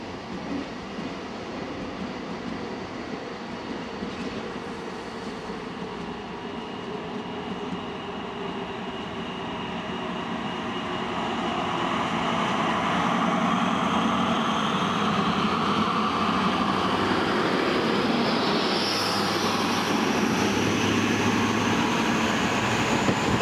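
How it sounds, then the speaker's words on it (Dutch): A double-decker train bound for Mühldorf near Rosenheim and München starts slowly, then powers up hard close by, its rising electric traction whine and rumble swelling steadily louder over about twenty seconds with no talk. "En vlak binnen de buurt van de camera gaat hij eens flink power geven."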